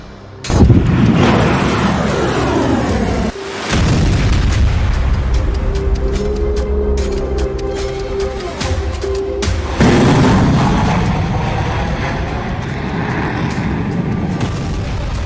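Missile strikes on military bases in news footage of the Iran-Israel war produce loud, deep booms that roll into long rumbling roars, with a sustained low thunder filling the scene and no talk.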